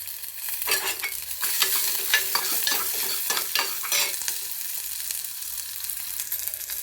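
Onions fry in a pan with a pinch of turmeric for a cabbage and moong dal dish, producing a steady close sizzle punctuated by repeated stirring scrapes, with no talking.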